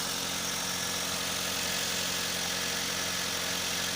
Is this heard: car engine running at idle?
yes